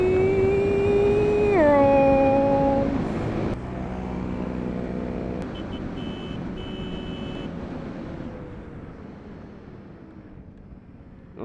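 A Suzuki motorcycle out on the road, its engine tone holding steady and then dropping as the rider shifts, under steady wind rush that fades slowly.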